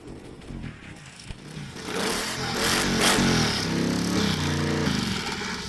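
A cold 5.7 Hemi V8 in a drift car, sitting through winter, cranks and fires up, then settles into a loud, steady rough idle close by.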